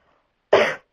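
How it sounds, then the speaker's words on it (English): A single sharp, hoarse cough at close range after a brief moment of near silence, with nobody speaking. "I have the cough that everybody else has in the whole country."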